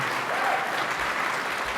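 Audience applause for a governor at a Western New York budget announcement, a dense, steady wash of clapping throughout, moderately loud and without speech.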